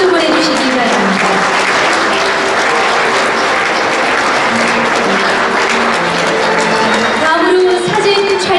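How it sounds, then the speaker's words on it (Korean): Loud, dense applause fills a literary award ceremony and holds steady throughout, while a voice carries on over the clapping crowd. "네, 여러분 큰 박수 보내주시기 바랍니다."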